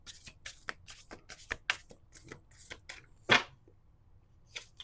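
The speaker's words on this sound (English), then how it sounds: "Last shuffle." Close, crisp riffles of a deck of cards being shuffled, several quick bursts in a row ending in one sharper snap.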